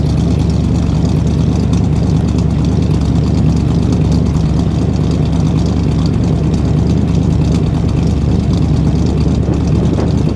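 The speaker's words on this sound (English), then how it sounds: "Listen to that idle back here." A 1955 Dodge Custom Royal Lancer with a 6-volt system and non-stock exhaust idles steadily up close, a deep, even rumble with no voices over it.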